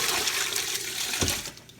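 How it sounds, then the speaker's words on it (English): Citrus brine poured over a whole turkey in a bucket, a steady gushing splash of liquid that holds for about a second and a half and then tapers off. "all I'm gonna do is pour the brine over top of it."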